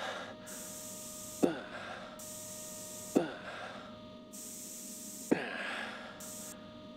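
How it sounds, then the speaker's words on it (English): In the horror video game Alone in the Dark, a spray can hisses in three separate bursts, each beginning with a sharp click, heard fairly quietly against a faint background hum. "How about some spray?"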